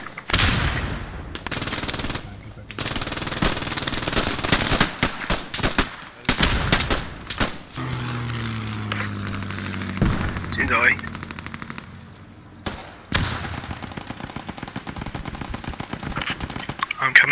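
Machine gun fire in the Post Scriptum war game, with bursts of rapid shots crowding the opening seconds and sporadic gunfire continuing later, while players talk over much of it.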